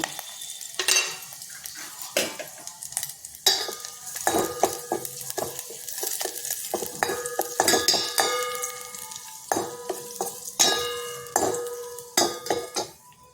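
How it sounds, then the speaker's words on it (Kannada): A spoon scrapes and clanks repeatedly against a metal pan while tempering spices sizzle softly in oil underneath, with irregular bursts of clatter throughout. "ಈಗ ಸ್ವಲ್ಪ ಎಣ್ಣೆ ಹಾಕಿದ್ನಲ್ಲ ಅದಕ್ಕೆ ಈ ಒಗ್ಗರಣೆ ಸಾಮಾನನ್ನು ಹಾಕ್ಕೊಳ್ಳೋಣ ಒಂದು ಸುತ್ತು ಹುರಿಯೋಣ"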